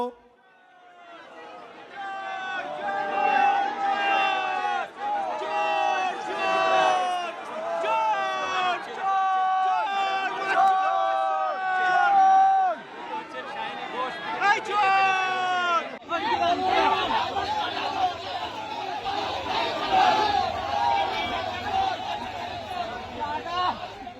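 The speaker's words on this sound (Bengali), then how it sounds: "সেখানকার মানুষজন তাদের দেখে চোর চোর স্লোগান তুললেন" A crowd chanting "chor chor" (thief) at visiting political figures in Baruipur, many voices shouting a rhythmic repeated slogan in close bursts, followed by a rougher noisy hubbub of the gathered crowd.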